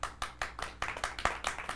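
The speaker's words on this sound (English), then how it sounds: "Let's give her another clap." An audience claps for a singer at a Bahamian community Christmas show, a steady run of rhythmic claps that sounds close and moderately loud, with no talking over it.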